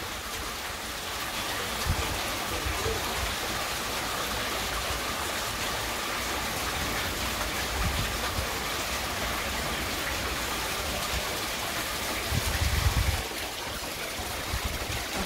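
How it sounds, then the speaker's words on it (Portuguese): Light rain falls steadily in the Brazilian sertão, a soft continuous patter on surfaces around a house, with a few duller thumps of drops striking closer by. "Olha, uma chuvinha, tá vendo?"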